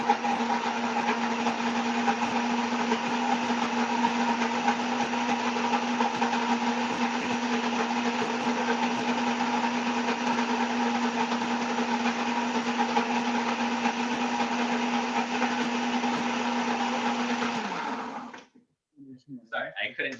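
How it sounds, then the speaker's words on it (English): Kitchen blender whirring at a steady high drone for about eighteen seconds, then spinning down and stopping, with a voice briefly heard just after. "Sorry, I couldn't hear over the blender."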